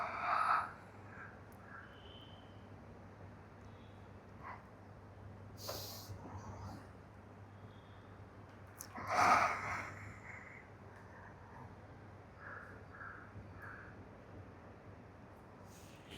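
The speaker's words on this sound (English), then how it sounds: "inhale into your belly and exhale" A person breathes deeply, inhaling into the belly and then exhaling, with a couple of soft, airy breath sounds over a quiet, low background hum.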